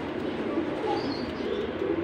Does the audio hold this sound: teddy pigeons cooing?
yes